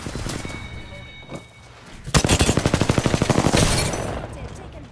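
Rapid automatic gunfire in the Apex Legends video game, a burst of evenly spaced loud shots over a busy background of game sounds and effects.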